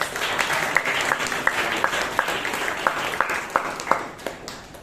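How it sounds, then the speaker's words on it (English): An audience at a Toastmasters meeting in Bangalore claps for the speakers, a steady wash of applause with a few sharp, louder claps standing out. "So round of applause once again for our speakers."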